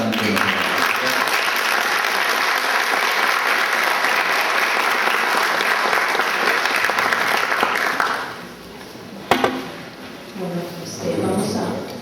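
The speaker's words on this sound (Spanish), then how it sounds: "quisiera pedirles un aplauso a los organizadores" Sustained applause from a large audience at an academic event in honour of the organizers, steady and full for about eight seconds before it fades, followed by a few scattered claps, a knock and some faint murmuring.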